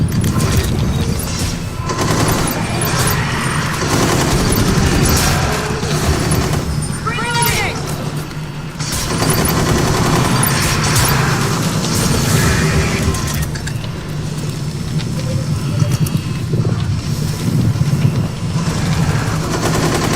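Automated turrets in the Rainbow Six Extraction video game fire continuous, dense bursts of gunfire that stay loud throughout, mixed with other game effects while a player talks over them.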